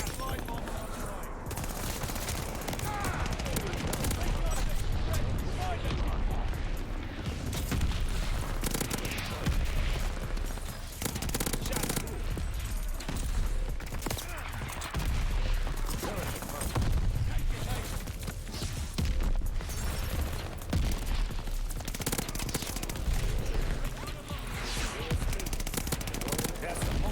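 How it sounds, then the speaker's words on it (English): Constant gunfire and booming blasts fill a Call of Duty: Vanguard match as a mortar barrage and bombing run land, with dense rattling shots and low rumbles running steadily throughout. "Allied calling a mortar barrage."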